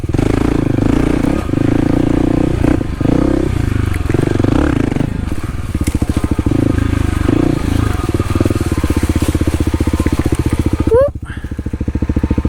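A Kawasaki KLX300 dirt bike rides local lake-side trails, its single-cylinder engine loud and close, revving and chugging with clattering and scraping from the terrain, the engine dropping away abruptly near the end.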